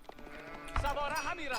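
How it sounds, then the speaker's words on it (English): Sheep bleat in Age of Empires during a match, a short wavering bleat rising over a commentator's talk, with faint game sounds underneath. "Derp is gathering the sheep."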